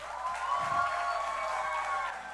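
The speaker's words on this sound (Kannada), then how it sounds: "ಒಂದು ಜೋರಾದ ಚಪ್ಪಾಳೆ ಕೊಡಿ." An audience at a Deepavali-Rajyotsava stage show in Pittsburgh cheering, with crowd noise and whistle-like whoops held steady at moderate volume.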